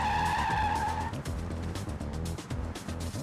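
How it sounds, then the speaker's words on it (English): Car tyres skidding at 30 mph in a brake test, a sustained loud squeal at the start that fades into rumbling road and engine noise. "I'm gonna take this car and I'm gonna skid at 30"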